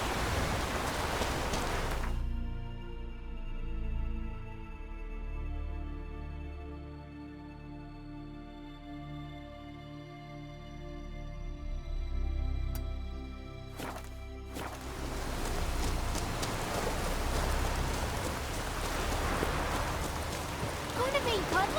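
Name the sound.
rain pouring, from the video game The Witcher 3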